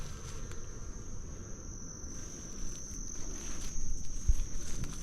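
Bees buzzing around cinnamon and cacao plants on a Kauai property, a faint constant high whine from the insects holding steady through the clip over soft outdoor rustle, with no talking.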